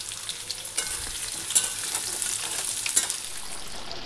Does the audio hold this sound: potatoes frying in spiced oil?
yes